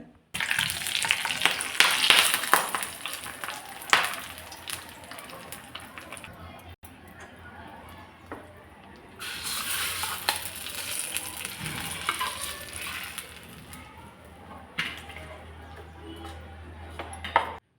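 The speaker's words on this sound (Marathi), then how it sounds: "मस्त असा गरमागरम तडका चटणीवरती घालायचा" Hot oil tempering of cumin seeds and curry leaves hits tomato chutney with a bright, crackling sizzle that swells loud, fades, then flares up again mid-way, while someone talks throughout.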